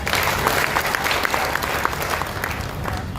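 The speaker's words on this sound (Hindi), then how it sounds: "आप लोग अपने लिए एक बार जोरदार ताली बजाइए" A crowd at a youth political gathering in Samastipur applauds with steady, dense clapping that carries on throughout and tapers slightly at the end.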